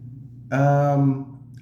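An abandoned female kitten gives a single loud, clear meow of about half a second, close to the microphone against a quiet background.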